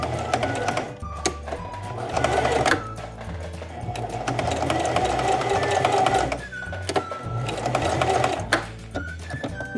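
A sewing machine stitches a scrunchie, running forward, backstitching, then sewing across, in steady whirring bursts broken by brief pauses and clicks, heard alone and close.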